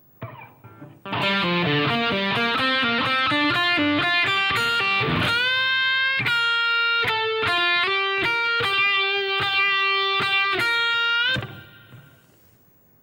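An electric guitar with distortion plays a solo phrase near and loud: a quick run of picked notes, then longer sustained bends and held notes. It ends in a short fade.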